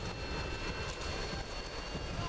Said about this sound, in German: Da ist ein Flugzeug am Himmel.